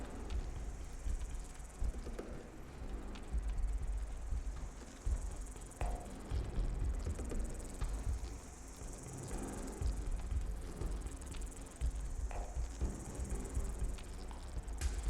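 Creatures buzz around in the video game Fallout 4, a steady insect-like drone that persists throughout, moderately quiet, with small clicks and footstep-like sounds scattered through it.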